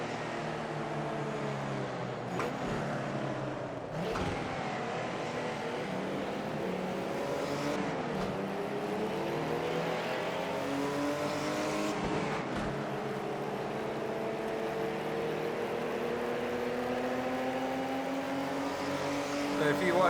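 Mercedes-Benz 300SL and Aston Martin DBR1 racing cars in Project Cars 2 at Oulton Park, with a steady loud engine drone rising and falling through gear changes and a few sharp shift breaks, under a talking voice.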